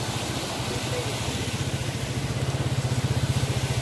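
A TMX 155 motorcycle rides through a muddy trail, its engine throbbing in a steady low pulse that grows slightly stronger and more regular toward the end, close and continuous.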